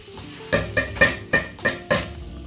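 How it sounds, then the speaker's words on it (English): A spoon knocks against a pot while stirring melting butter, six crisp rhythmic taps about a third of a second apart, close and clear, with a faint sizzle underneath. "so we're going to stir that up in the pot, stir it up"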